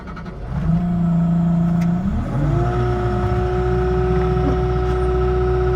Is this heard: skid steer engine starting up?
yes